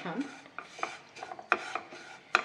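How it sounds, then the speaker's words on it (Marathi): Semolina being dry-roasted and stirred in a pan for mango sheera, giving soft scraping and rasping strokes with a few sharper utensil knocks against the pan, close and moderately quiet, with no talking. "आता हा रवा एक अर्धा मिनिट अजून भाजून घेऊया"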